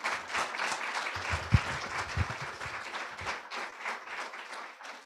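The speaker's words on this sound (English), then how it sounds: "It's now official, and you can applaud." Audience applause at a university ceremony installing the inaugural Alton and Sandra Cleveland Professorship, a steady wash of many hands clapping that fills the room evenly, with a couple of sharper individual claps standing out, fading slightly toward the end.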